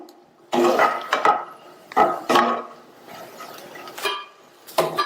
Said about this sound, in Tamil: இந்த புளி ஒரு 2 நிமிஷத்துக்கு வதங்கட்டும்.